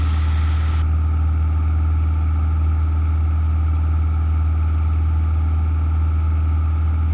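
A Cessna 172 piston engine at about 2,400 RPM in cruise, a loud, steady, droning hum with a constant low tone, heard from inside the cockpit throughout.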